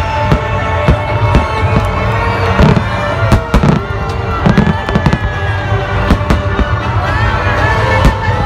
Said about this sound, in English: tunghayan natin ang naganap na Qatar National Day Fireworks Display